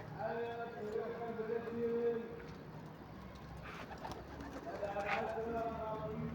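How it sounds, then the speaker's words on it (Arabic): Pigeons cooing in a loft, soft low calls scattered through the clip, with someone speaking nearby and faint shuffling and fluttering around them. "وهننشي الحمام برضه وهنسيبه يتنشي براحته"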